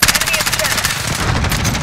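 Rapid automatic gunfire in a first-person shooter video game: loud, close, evenly spaced bursts rattling continuously for about two seconds with no pause.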